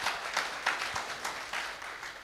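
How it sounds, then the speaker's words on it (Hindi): An audience in a large hall at a direct-selling event claps in steady, moderately distant applause that continues evenly throughout. "एक बार जोरदार ताली बजा दीजिए आप लोग"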